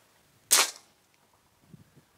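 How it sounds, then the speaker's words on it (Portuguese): An Outlander VR air rifle fires an 18.13 slug at plasticine about 98 metres away, giving one sharp, fairly close crack that dies away quickly, with faint low murmurs afterward. "vou fazer um disparo lá."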